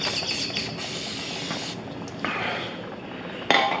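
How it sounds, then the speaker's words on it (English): Brake cleaner sprayed from an aerosol can onto a 10th-generation Honda Civic brake rotor, a steady close hiss lasting several seconds with brief pauses and a sharp burst near the end. "I'm going to hit that with some brake cleaner."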